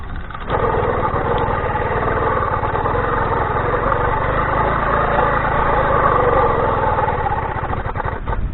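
An 80cc bicycle-mounted motor runs steadily after being started, a loud, close, buzzing engine drone that holds evenly for several seconds with no talking over it.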